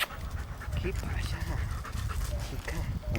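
Hunting dogs at a Spanish montería hunt pant rapidly and steadily up close, with a voice talking over the breathing throughout.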